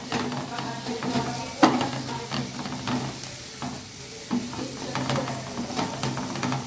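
Agri masala sautéed in a pan for a peas and potato dish, a steady close sizzle with soft scraping stirs and an occasional clink, no talking.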